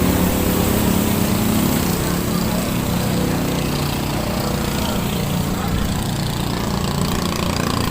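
Noisy generator running outdoors near a waiting area where passengers board, a loud, steady, unbroken engine drone with a buzzing mechanical tone that holds constant throughout, faint voices mixed in beneath.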